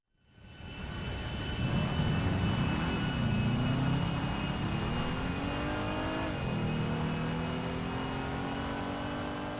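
A Woodlander truck in GTA Online, its engine droning steadily and loud with rising and falling revs and gear-shift dips, continuous throughout with no talking.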